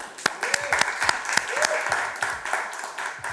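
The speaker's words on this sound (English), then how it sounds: "Give a round of applause," Audience applause following the introduction of a guest on a talk show: scattered, uneven clapping with sharp individual claps standing out, moderately loud, with faint voices mixed in.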